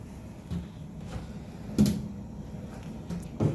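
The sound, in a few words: hotel room kitchen drawer opening or closing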